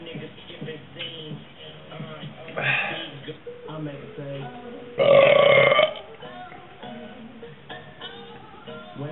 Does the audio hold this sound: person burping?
yes